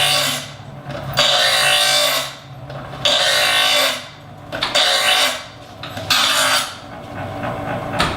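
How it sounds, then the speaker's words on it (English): A kitchen knife is drawn through a manual sharpener's diagonal grooves against rotating cutting stones. Four loud, close rasping strokes repeat at an even pace with short gaps between them. "these diagonal grooves do all the work for you because they position the knife perfectly against the cutting stones"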